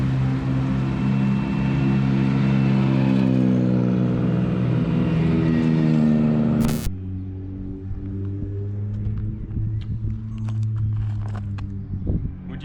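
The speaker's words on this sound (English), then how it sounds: "some rally cars to look at on the road section on the way this morning" Rally cars on a road section of WRC Croatia Rally 2023, a close, deep engine drone with rising harmonic whine that cuts off abruptly into lower idling rumble and scattered knocks.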